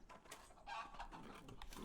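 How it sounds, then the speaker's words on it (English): Chickens cluck on a farm in the game Pentiment, a few short clucks over a steady ambient game backdrop at moderate loudness. "I can't fight the chickens"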